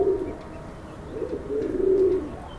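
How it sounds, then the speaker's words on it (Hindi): Pigeons coo below in low, throaty, repeated calls, close and fairly loud, with overlapping rolling coos and no talk. "इनकी आवाज़ें आ रही कबूतर की नीचे की"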